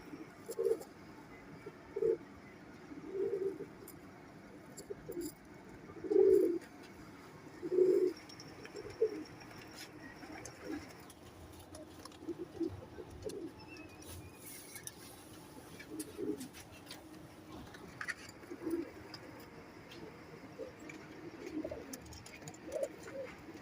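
Sialkoti pigeons coo close by in repeated deep, throaty bursts, several loud calls at first and then softer, scattered coos over a quiet background.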